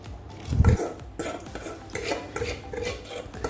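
Roasted gram dal being scooped into a mixer jar: one low thud near the start, then a run of light scraping and clinking of a spoon against metal, close and moderately quiet.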